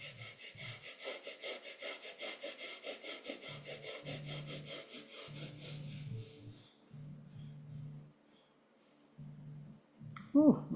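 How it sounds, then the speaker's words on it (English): Rhythmic breathwork from a Shakti breathing exercise: quick, repeated, forceful breaths pulse through the first half with an airy rasp. Softer hums and voiced sounds follow, ending in a sudden sharp gasp. "I'm going to do some Shakti breathing on your third chakra."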